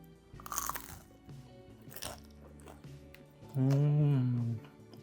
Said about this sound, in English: It's a super crunchy egg roll